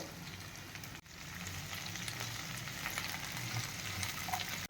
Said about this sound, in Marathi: थोडंसं तेल टाकून त्याच्यातला चिकटपणा जाईपर्यंत ही भाजी थोडी परतून घेऊया आपण